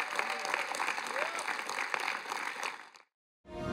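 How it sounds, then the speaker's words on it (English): Audience at a church service applauds the Lord, a steady dense wash of clapping with voices mixed through it, then a brief cutoff to silence before another sound begins. "Give the Lord a hand clap for that"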